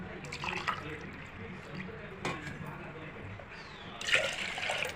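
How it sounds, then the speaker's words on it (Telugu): Water poured into a pot of rice semolina for a thin porridge makes a light splashing and trickling under a voice, with a brighter rush of pouring near the end. "ఇంకా ఇప్పుడు వాటర్ వేస్తున్నా దీనికి"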